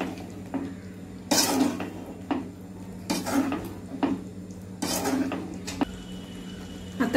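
Metal spoon scraping and clanking against a pan while egg biryani masala with eggs is stirred and sautéed, several bursts of scraping spaced a second or two apart over a low steady hum.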